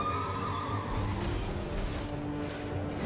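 A horse in Elden Ring gives a faint neigh over a steady low game backdrop, a single drawn-out whinny sitting quietly in the mix with no talking.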